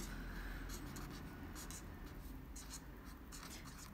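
The fine tip of a Tombow marker writes on paper, a close, soft scratching that comes in short strokes and brief pauses.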